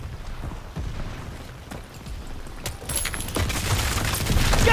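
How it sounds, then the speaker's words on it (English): An artillery barrage thunders through a World War II battle in Call of Duty WWII, with dense overlapping booms and blasts rolling continuously and growing heavier and louder toward the end. "Get down! Artillery barrage!"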